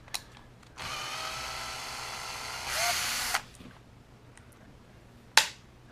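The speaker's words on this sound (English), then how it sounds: "And yes, I am using a drill" A power drill whirs in two short bursts, backing screws out of an RC car's suspension mount, with clicks and a sharp tap around it and a voice talking nearby.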